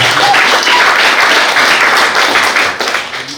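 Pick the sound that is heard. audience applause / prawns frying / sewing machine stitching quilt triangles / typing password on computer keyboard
audience applause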